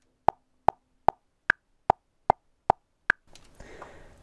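Metronome click track in Reaper DAW at 150 BPM: eight sharp, evenly spaced ticks with an accented click every fourth beat, followed by a short burst of soft noisy rustle.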